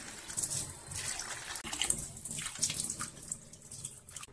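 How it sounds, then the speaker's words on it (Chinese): Minced chicken thigh meat is rinsed under a running tap in a home kitchen, with a continuous splashing flow of water and irregular sloshing as the meat is stirred. "切好后用清水冲洗几遍"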